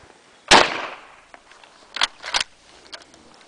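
A Mauser rifle fires 1954 Ecuadorian 7.92x57mm ammunition, one sharp loud crack with a short decaying echo, followed by a few fainter clicks and clacks of handling.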